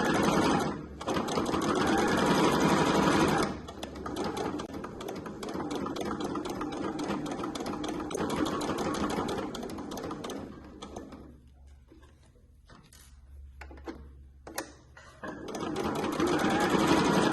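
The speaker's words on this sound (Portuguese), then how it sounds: "Aqui na curvinha vai mantendo o pé de máquina, tá?" A sewing machine stitching a fabric clutch runs in close, rapid mechanical bursts, stopping and starting with brief pauses and a quieter stretch of slow, spaced stitches before the whirring resumes.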